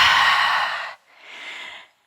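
A big exhale, loud and breathy at first, then a brief pause and a second softer trailing breath out, heard close with no talking.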